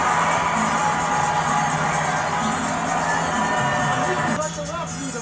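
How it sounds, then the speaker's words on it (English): A dense boxing crowd roars and cheers continuously inside the MGM Grand Garden Arena in Las Vegas, a loud sustained wall of shouting and whoops that eases slightly near the end. "The crowd's loving it at the MGM Grand Garden Arena."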